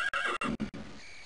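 A horse in the game Daggerfall gives a short whinny lasting about a second, a close, choppy neigh with a fading breathy tail.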